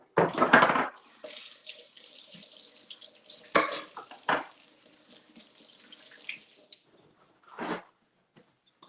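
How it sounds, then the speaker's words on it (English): Tap water runs and splashes as an item is rinsed under a kitchen faucet, with bursts of gushing flow, drips and a brief squish, fairly close and alone. "I'll just rinse this off"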